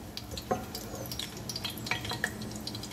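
Chillies sautéing in a pan for an eggplant and potato bhaji: soft sizzling with scattered spitting pops and light clicks, fairly quiet and close, with no talk.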